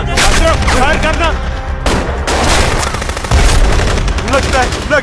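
Dense firearm gunfire in a Hindi film battle scene, with loud bursts of rapid machine-gun-like shots running almost continuously, sharp and close, over shouting voices.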